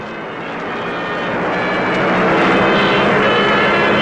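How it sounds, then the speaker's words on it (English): A propeller aeroplane, the first Italian plane to land at an airport on the African front, gives a steady broadband engine drone that swells gradually louder, with no voices. "the first Italian aeroplane to land at the airport"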